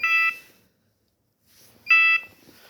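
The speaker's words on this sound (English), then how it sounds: "you will hear this beep immediately." Two short electronic beeps from a RaceGorilla photocell timing system's external beeper at a finish line, each a bright steady tone about a third of a second long, separated by a pause of over a second, with faint background noise.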